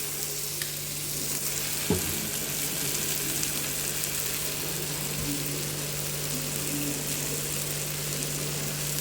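Onion and tomato fry in oil for dal khichdi with a steady, close sizzle, and a faint hum runs beneath it.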